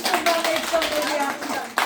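A group claps in lively, sustained applause that lasts a couple of seconds, close by, with faint voices underneath.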